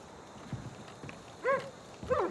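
Dog in the video game Far Cry New Dawn, two short barks or yelps about half a second apart, moderately close over quiet background ambience.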